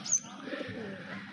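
Pigeons perched together give a soft, low coo, faint and brief, with a thin chirp at the start.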